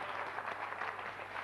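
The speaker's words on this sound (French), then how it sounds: "Applaudissements tonitruants pour Colette." Audience applause for a contestant on a 1995 French television game show, a steady dense patter of clapping at moderate volume that fills the whole short stretch.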